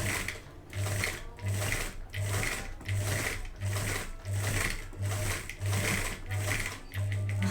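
Sewing machine stitching fabric pieces in short regular bursts, a steady rhythmic whirr repeating about every half second, close and moderately loud with no talk over it.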